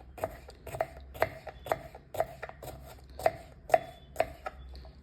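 A knife chops bitter gourd on a cutting board in a home kitchen, eight or nine crisp, evenly spaced cuts ringing out close and clear with no talking.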